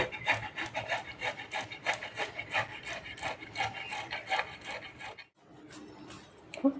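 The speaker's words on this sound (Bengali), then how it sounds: "ব্যাটারে আলুটা এভাবে গ্রেড করে নেব" Boiled potato is grated by hand into a batter, giving a quick, rhythmic rasping scrape of steady strokes at close range, pausing briefly near the end before one more stroke.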